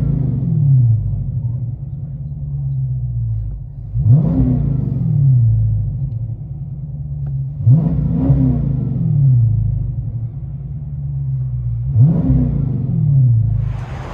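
A Dodge Challenger Scat Pack with a 6.4L HEMI V8 and an aftermarket exhaust rumbles at a deep idle, then revs hard three times in spaced blips, each rising and falling back to the loud, steady burble.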